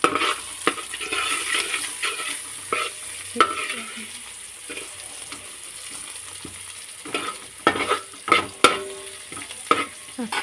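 Onion and capsicum sautéing with salt and turmeric in a pan, a steady soft sizzle with a spoon stirring and scraping in clustered strokes, rising to several sharper clanks near the end, with no talking.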